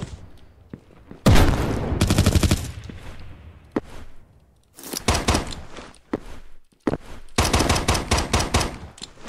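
Rapid gunfire from the browser shooter Poxel.io, with sharp bursts of automatic fire and single shots coming in several loud, close volleys separated by brief pauses.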